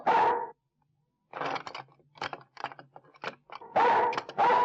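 A dog barks in loud, close bursts separated by short pauses, with some quieter yelps and clatter between them and no talking.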